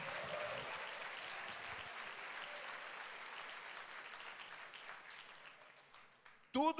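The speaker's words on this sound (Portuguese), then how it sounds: "Quem recebe, dê um aplauso aí a Jesus" A church congregation at a Sunday service applauds in a broad, sustained wash of clapping that gradually tapers off, ending with a brief burst of a voice.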